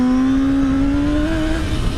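A powerful motorcycle pulling hard in second gear, strong enough to lift the front wheel: a loud, close, steady engine roar whose pitch climbs as it accelerates, with no voices.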